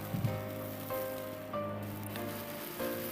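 A sabudana dhirde, a sago pancake, sizzles on a pan over a very low flame, a soft, steady crackle and hiss with faint background hum throughout.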